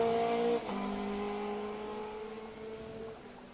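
Rally car number 57 on a special stage of the 2023 Manx Rally, its engine loud and close, holding a high note before a sharp drop at a gear change, then droning steadily on.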